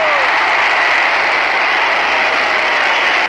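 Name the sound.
roar of hockey crowd after a goal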